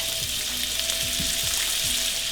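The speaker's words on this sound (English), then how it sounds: "I'm going to put some butter in here, about a half a stick of butter." Half a stick of butter sizzles steadily in a pan of leftover bacon fat, a loud constant frying hiss with faint stirring scrapes.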